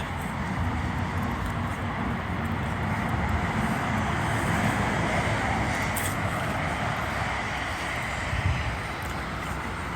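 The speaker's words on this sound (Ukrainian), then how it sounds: "Це так машина запустилася." A vehicle engine running steadily after starting, a loud continuous broadband rumble that holds even throughout, with no talk over it.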